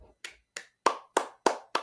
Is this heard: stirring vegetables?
no